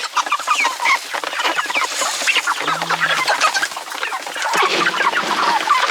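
Chickens cluck and squawk nearby in a busy, overlapping chorus with sharp calls scattered throughout and no speech.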